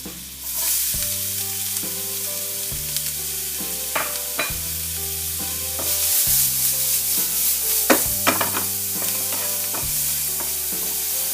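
Onion frying in melted butter in a pan, a loud, close, steady sizzle with repeated scraping and clinking as it is stirred, no talking.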